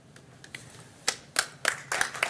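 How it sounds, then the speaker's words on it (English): Audience at a Wausau city council meeting: scattered, fairly quiet handclaps that build from a few isolated claps into sparse clapping from several people, with no talking. "let's hold our applause"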